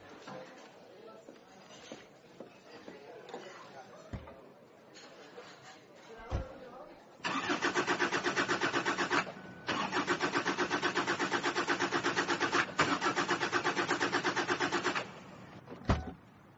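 A car engine cranks and catches, then runs loudly and steadily for several seconds, briefly cutting out before resuming, with quieter ambient sounds and possible speech earlier on.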